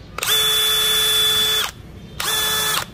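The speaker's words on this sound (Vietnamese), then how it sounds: "Ở cái cấp độ nhanh nhất mà anh chị nghe tiếng máy DCD996 cực kỳ êm" A DeWalt DCD996 hammer drill runs at its top speed in two bursts, a smooth high-pitched whine that starts and stops sharply with a brief pause between runs.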